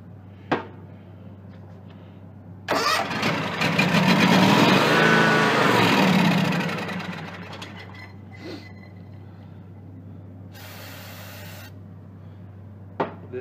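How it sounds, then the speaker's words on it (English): A Kawasaki FH-series engine on a John Deere X300 lawn tractor, suffering a no-start, runs-and-dies fault, cranks and catches briefly for a few seconds of rough running, then dies, with faint clicks before and after. "Let's just spin it over and see if it'll start."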